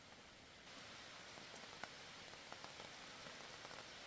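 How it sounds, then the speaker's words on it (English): Light rain falls steadily on a tent while camping on a backpacking trail in Pennsylvania, a soft continuous hiss with scattered distinct drop taps, faint and close, with no voices. "that sounds like it's actually rain"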